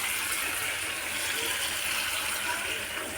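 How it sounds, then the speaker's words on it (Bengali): Water pours steadily into a cooking pan of small-fish chorchori, a constant loud gushing rush with no pauses. "জল দিয়ে দেবো।"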